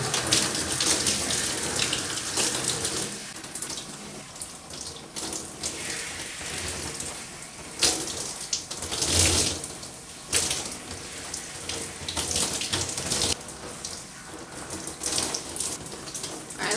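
Shower water runs continuously, rinsing a bentonite clay mask out of hair, a dense close hiss that surges and thins as the stream is broken by hands and head.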